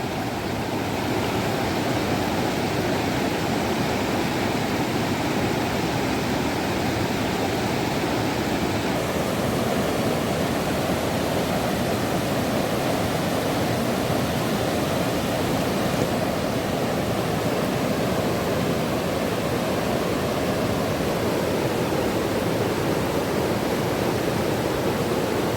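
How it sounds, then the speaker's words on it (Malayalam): Attiyenpara waterfall in full flow after rain, a steady, loud rushing roar of falling water that holds constant from start to end with no voices. "ഇതിപ്പോൾ മഴ പെയ്തിട്ട് കുത്തിയൊലിച്ച് വരികയാണ്."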